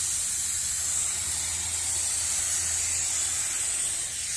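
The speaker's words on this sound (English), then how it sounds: "So I'm going to go ahead and spray this." A spray bottle hisses liquid onto carbon window film in one continuous, fairly faint burst of fine mist that runs the whole time, with no talking.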